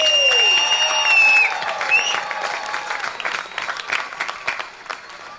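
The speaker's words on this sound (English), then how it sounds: "So a big round of applause for everybody today" An outdoor crowd at a charity porch music festival claps and cheers for the bands and volunteers, with ringing tones lingering at the start and the applause tapering off.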